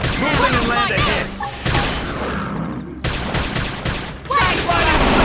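Gunfire in the video game Xenoblade Chronicles X, a loud, dense barrage of shots and impacts in a chaotic battle, layered with game music and effects and with voices over it.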